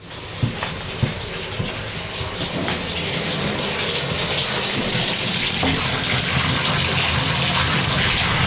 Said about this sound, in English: Got hot water now, mama.